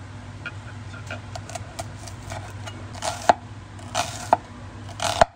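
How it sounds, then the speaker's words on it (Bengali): A knife chops spring onion bulbs into rounds on a board, a run of light crisp taps that ends in three louder, sharper chops, over a low steady hum with no talking. "পেঁয়াজগুলো আমি এরকম করে গোল গোল করে কেটে নেব।"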